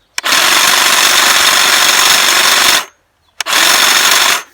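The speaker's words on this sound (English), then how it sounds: "So I'll just trim a little bit of this shrub here." A Dewalt XR battery hedge trimmer cuts through a shrub, its loud, steady buzz running for about two and a half seconds, stopping briefly, then starting again for a second burst.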